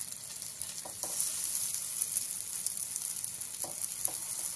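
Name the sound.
egg and flour pockets deep frying in oil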